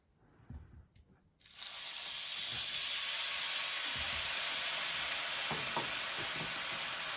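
Water strikes a hot pan and bursts into a loud, sustained steam hiss. The hiss starts abruptly after a few quiet clinks and holds steady to the end, with faint knocks underneath.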